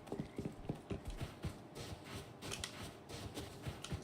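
A horse's hooves clip-clop in a video game, a quiet rhythmic series of clacking steps with soft shuffling between them and no talk over it.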